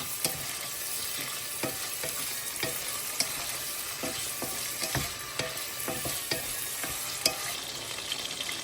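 Sausages (wieners) sizzle in a pan with a steady crackling hiss, punctuated by occasional sharp pops and light scraping clicks, browning before sauerkraut is added.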